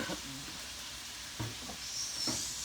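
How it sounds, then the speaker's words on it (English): Pork chops sizzle softly in a pan under a few scraping stirs of a utensil, close but fairly faint, with a brief murmur of voice in the background. "let me stir that around, give that a good stir"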